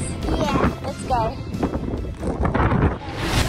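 Wind blusters across an open beach, a steady broadband rush that stays under close conversation throughout.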